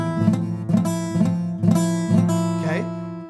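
A guitar chord strummed with the strings not pressed down firmly enough, giving a series of about five close, loud strums with a buzzy, muted ring in an uneven rhythm.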